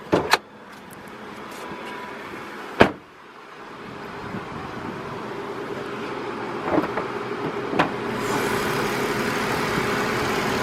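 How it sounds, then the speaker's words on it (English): A Jaguar XF's 3-liter V6 idles under an open hood, its direct injection ticking lightly over a steady hum, with a few sharp clicks and knocks near the start and later on. "You can hear the direct injection ticking away there."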